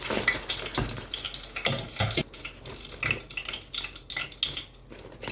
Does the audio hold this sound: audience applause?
no